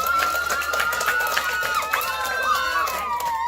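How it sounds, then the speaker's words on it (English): An audience at a school assembly applauds steadily, with dense clapping, whistles and cheers filling the room throughout. "Everybody give them a round of applause."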